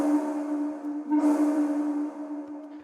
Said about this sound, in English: So now the reverb layer sounds like this.